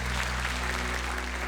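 Congregation applause at a Catholic worship night of praise, a dense, even wash of clapping heard from a distance under a low steady hum, with no voices standing out.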